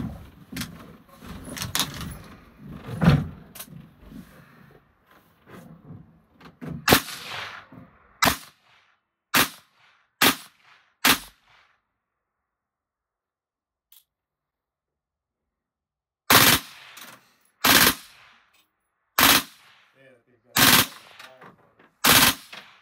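Gunshots from a Winchester Armament firearm crack out as sharp single reports, first mixed with talk and then spaced alone, with a long silent gap before a final string of evenly spaced shots.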